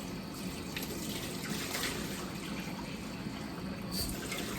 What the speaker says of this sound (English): So I'm just giving it a bit of a rinse before I chuck it in the sink.